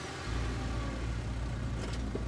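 Small two-seater truck engine in the video game Scarlet Hollow, a steady low mid-range motor rumble that starts after a brief quiet moment and holds at an even, close level with no talk over it.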